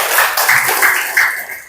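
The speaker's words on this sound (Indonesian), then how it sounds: "Oke, tepuk tangan semuanya" Classroom applause from students, a few bursts of clapping spread over a couple of seconds at moderate loudness, with faint background voices.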